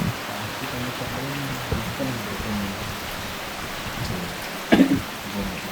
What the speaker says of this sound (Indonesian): kita di atas disambut dengan hujan juga